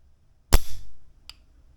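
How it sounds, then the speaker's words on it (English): An AR5.7 rifle's trigger is dry-fired: one sharp, close mechanical click, followed by a fainter second click a moment later. "I mean, it's really, really easy to pull this trigger."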